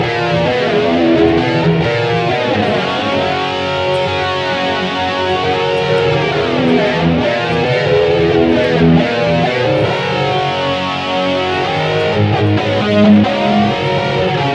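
Distorted electric guitar plays a sustained 80s heavy metal riff through a Boss eBand JS-10, notes ringing into a spacious reverb tail, loud and continuous throughout.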